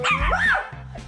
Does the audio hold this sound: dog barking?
yes